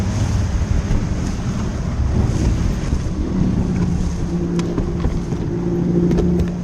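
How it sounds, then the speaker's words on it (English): An empty boat spins on open water with its engine running at full power, a loud churning roar mixed with wind buffeting and the splash of waves. "leaving his boat spinning wildly with its engine still running at full power."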